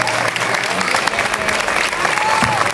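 A crowd at a casting event for the Cucafera festival's princess and knight roles breaks into loud, continuous applause, dense clapping throughout with a few voices faintly audible underneath.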